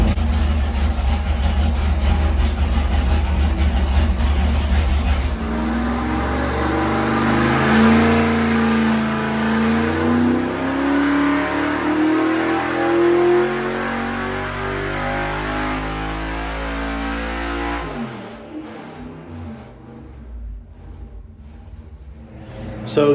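A 9-to-1 compression 383 engine with dished pistons on 91 octane pump gas runs during heat cycles, a loud, close, heavy rumble with rising and falling revs throughout before dropping back toward idle near the end.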